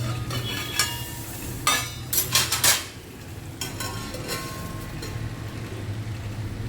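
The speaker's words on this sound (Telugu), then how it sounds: "ఒక 2 నిమిషాలు మూత పెట్టుకొని మగ్గనిద్దాము." A lid goes onto a cooking pot with a few sharp metallic clinks and rattles in the middle, over a low steady simmer in a kitchen.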